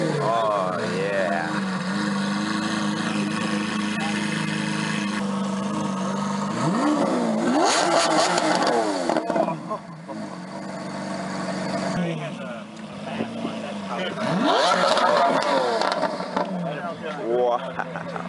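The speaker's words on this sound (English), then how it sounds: "We're gonna get a cold start up." A Roush Ford car engine cold-starts and idles with a deep, burbling rumble, then revs sharply twice with rising and falling blips, fairly close, under a busy outdoor background.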